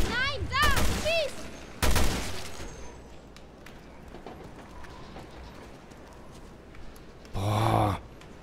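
Gunfire in Resident Evil Revelations 2 comes as a few sharp, loud shots early on, then a quieter stretch of game ambience and another heavy burst near the end, with creature cries in between.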